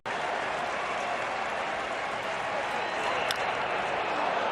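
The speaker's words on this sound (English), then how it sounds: "This crowd is revved up today." A baseball stadium crowd of over 40,000 at an Astros vs Blue Jays game roars and cheers steadily, a dense, loud wash of noise that holds throughout without a break.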